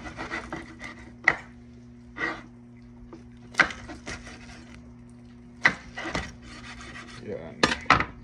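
Knife chopping through beef ribs on a board for Filipino nilagang baka, with several sharp separate thwacks and scraping spaced across the stretch, close by and with no talk.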